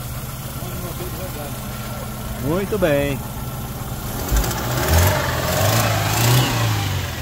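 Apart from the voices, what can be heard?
Corsa 2007 1.0 car engine idling and revving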